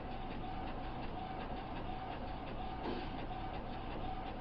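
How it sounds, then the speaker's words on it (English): An HP printer runs off a shipping label with a steady mechanical whir and a fast, regular ticking rhythm, close and moderately quiet, with no voices. "And I'll let it print out"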